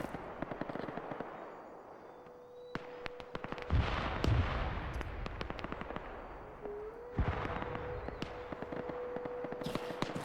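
Gunfire in a large 124-player PvP multiplayer shooter, with irregular sharp cracks and bursts from distant and nearer shots, some sustained rattling volleys, and a steady tonal hum under the exchange.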